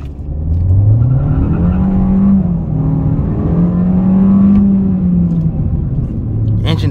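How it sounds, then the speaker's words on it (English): A 2021 Kia K5 LXS turbocharged car engine revs and pulls hard with a deep rising and falling drone, loud and close, with a faint high turbo whistle riding on top. "You can tell when a turbo kicks in, you get a slight turbo whistle."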